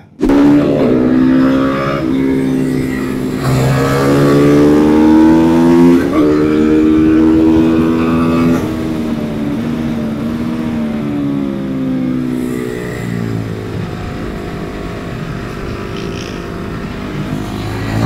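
A motorcycle roars around the Mirecourt racetrack, close and loud, its engine pitch climbing and dropping through gear changes as it accelerates and brakes, with a steady rumble throughout.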